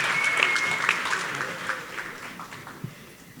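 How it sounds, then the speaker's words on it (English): A crowd applauds at a radio station's 20th anniversary awards celebration, a fairly loud wash of clapping and some cheering that gradually tapers off over a few seconds. "Give it up once again, y'all. They deserve all the hand claps."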